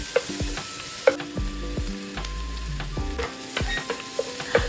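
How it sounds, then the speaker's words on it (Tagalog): Garlic and onion sauté in olive oil in a pan, giving a steady close sizzle with repeated clinks and scrapes of stirring throughout. "saka tayo maglagay ng olive oil to saute our garlic and onion"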